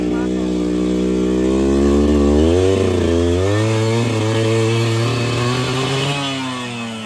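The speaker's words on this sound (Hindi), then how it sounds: "आज मेरी बाइक की एक्सट्रीम टेस्टिंग होगी RX 100 की" A Yamaha RX100 motorcycle on an off-road ride, its two-stroke engine droning loud and close, rising and falling in pitch as the rider works the throttle, with no pause across the whole stretch.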